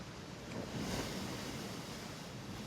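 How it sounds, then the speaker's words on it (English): Sea water lapping and slapping against the Blackpool seafront on a wet afternoon, a steady rough wash of surf and wind noise that swells slightly near the middle and continues without any voices. "the water's tapping and banging against the seafront"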